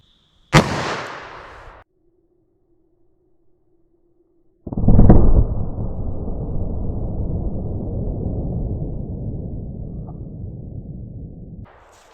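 A single sharp, loud .357 Magnum revolver shot fired into ballistic gel, then after a pause a second loud burst that decays into a long rumbling tail.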